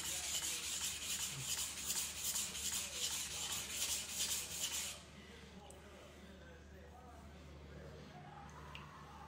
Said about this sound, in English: I'm just trying to polish out some lows before I go to the 400